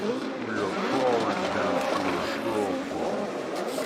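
A Ferrari drift car's engine roars through a Formula Drift battle run, a steady droning rev heard under a commentator talking over it throughout.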